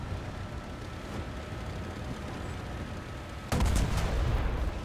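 Cannon of an Abrams XM-1 prototype tank firing in a video game: a single loud, sharp blast near the end, cutting through steady rumbling engine and battle noise.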